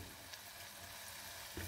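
Semolina pua batter fries in shallow oil, giving a faint, steady sizzle and crackle with a soft stir or splash near the end and no voices.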